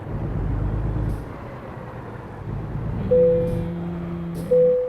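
American Truck Simulator game audio of a truck idling and then pulling onto a weigh scale, with two sharp hissing air brake releases near the end rising over the steady rumble of the engine.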